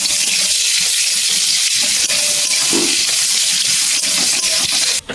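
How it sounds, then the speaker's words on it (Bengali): Chopped onion sizzles loudly and close up in a hot pan, a dense, constant frying hiss with faint scrapes as it is stirred. "নেড়ে চেড়ে ভালো করে ভেজে নেব"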